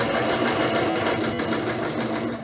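A sewing machine runs steadily through a short backstitch along a pillowcase edge, its motor whirring close and continuous with a fine rapid needle rhythm and no talk over it.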